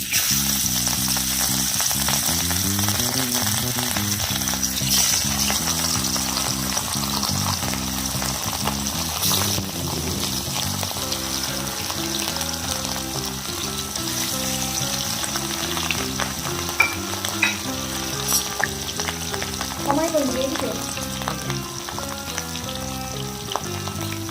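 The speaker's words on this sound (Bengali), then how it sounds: "ভালো করে কড়া করে ভেজে নেওয়া হবে। একটা পিঠ হলে তারপর আবার উল্টো দিকে ভাজতে হবে।" Rohu fish pieces frying in mustard oil in a hot kadai, a loud continuous close sizzle with occasional spatters and pops, and no voices.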